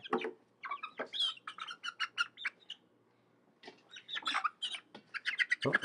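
Chickens cluck and squawk up close in quick bursts of clipped, chattering calls, with a short quiet gap midway before the calling resumes.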